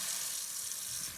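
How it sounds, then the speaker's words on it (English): A sink faucet is opened and water runs steadily into the basin, giving a continuous bright hiss at close range, fairly quiet and with no talking. "I'm gonna start by turning on the faucet"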